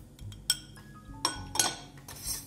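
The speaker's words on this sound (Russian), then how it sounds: "Как следует размешиваем." A spoon stirs cocoa and sugar for a glaze in a bowl, giving a few sharp clinks and scrapes against the dish, spaced irregularly and fairly close.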